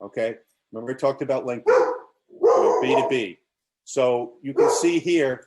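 A dog barks repeatedly in short bursts close by, mixed in and overlapping with someone talking steadily throughout.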